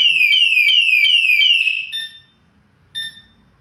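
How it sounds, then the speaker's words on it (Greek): A motorcycle anti-theft alarm on a Benelli TRK 702 X sounds close and loud, with a rapid series of shrill descending electronic chirps that stop abruptly. Two short high beeps follow, with faint rustling underneath. "Το σύστημά μας βλέπουμε ότι ξαναπέρασε πάλι σε ένα συναγερμό αποτροπής"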